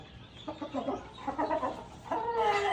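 A show-champion chicken clucks nearby in a quick run of throaty calls, rising into a louder drawn-out cackle at the end.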